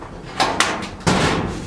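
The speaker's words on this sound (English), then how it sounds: "This door needs to be lifted just slightly off its tracks on the bottom." A wooden shed door is shifted on its bottom tracks during a guide repair, giving three knocking bumps, the last one heavier, over a steady background hiss.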